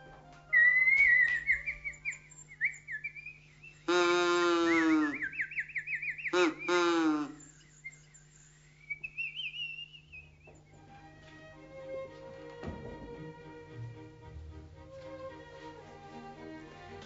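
A whistle imitating animal calls gives several wavering, gliding tones, then two loud, buzzy harmonic bursts. Quieter chirps and faint background sounds follow in a quiet room.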